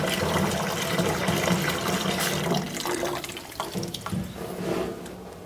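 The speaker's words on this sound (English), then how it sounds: "While Jeff's putting the water in" Water pours and splashes steadily into a small-batch ice cream machine for a berry cream ice, a close, continuous gushing that thins out toward the end.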